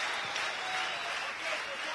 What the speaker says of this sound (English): you can hear the crowd here giving it up for Slovenian hero